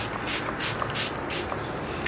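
Fix Plus setting spray misted onto a face in several short, soft hissing bursts, close to the microphone, with quiet gaps between them.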